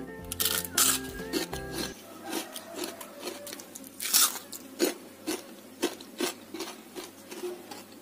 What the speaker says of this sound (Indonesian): Tuh kering banget renyah dan gigit cabai seperti ini.